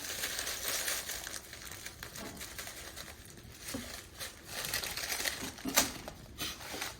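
Dry crinkling and rustling of a thin plastic bag, with uneven bursts of crackle and a sharper crunch near the end, close by and fairly quiet.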